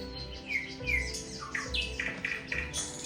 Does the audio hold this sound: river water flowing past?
no